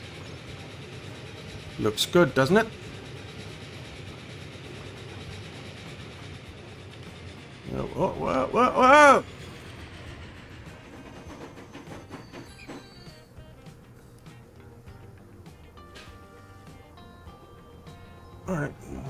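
A passenger train in Transport Fever 2 rolls along rails with a steady low rumble and faint rhythmic clatter, while someone talks over it in short bursts.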